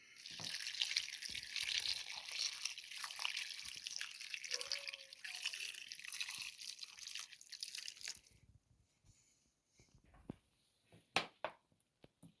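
Boiled water is poured over stewed herring with potatoes, paprika and a bay leaf in a baking dish: a steady, bright splashing pour that runs for about eight seconds, then stops, leaving a few scattered drips and small knocks.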